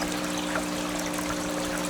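Water trickles steadily out of an aquaponics grow bed, a constant close splashing dribble with a faint steady hum beneath it and no voices.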